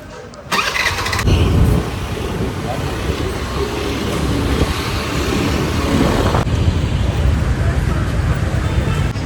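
A two-wheeler engine running steadily while being ridden, with loud road and wind rumble throughout and a brief louder burst near the start.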